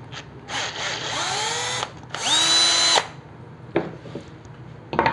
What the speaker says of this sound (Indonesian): Ini saya pakai bor kipas.